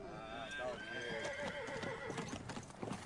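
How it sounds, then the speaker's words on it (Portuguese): A team of horses clip-clops with hoofbeats in a steady rhythm, while one horse neighs and whinnies clearly near the start, heard close under people speaking. "Você cuida muito bem da parelha, Spiro."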